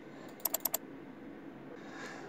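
Four crisp computer mouse clicks land close together as two quick double-clicks, near and sharp against faint room hiss, with nothing else happening.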